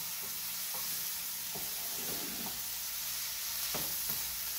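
Onions frying in a pan while cooking curry shrimp, a steady soft sizzle with occasional stirring scrapes, alone with no talking.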